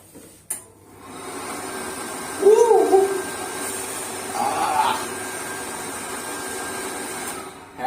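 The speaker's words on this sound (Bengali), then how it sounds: "hand dryer" An electric hand dryer runs in a restaurant, blowing with a steady, close whooshing roar for several seconds before it cuts off.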